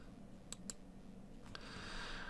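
Computer mouse clicks while configuring a Windows server, two quick soft clicks close together followed by another single click, faint and isolated against quiet room hum.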